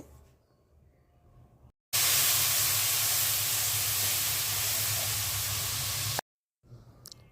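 Onions frying in hot oil for a cauliflower curry burst into a loud, steady sizzle as spices are added. The hiss runs strongly for about four seconds between quieter stretches, with no talk.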